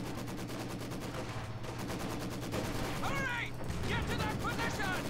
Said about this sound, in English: Wow, they have a lot of machine guns.